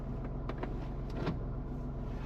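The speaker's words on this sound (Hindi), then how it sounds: "आपको इंजन की नॉइज सुनाते हैं।" A Tata Tigor sedan's engine idles just after starting, a low steady rumble with faint rhythmic pulsing, heard close and fairly quiet, no talking.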